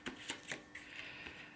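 Tarot cards are shuffled and drawn in a quick run of soft papery flicks and snaps, quiet and close, with no one speaking.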